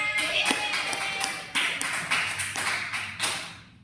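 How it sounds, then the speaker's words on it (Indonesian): A classroom group claps hands together in a short rhythmic burst of distinct, sharp claps, fairly close and clear, fading out at the end. "Tepuk tangan."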